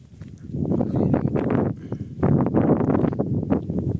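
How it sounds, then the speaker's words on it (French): Loud gusts of wind buffet the microphone in two long roaring surges with a brief lull between them. "Il y a du vent, putain."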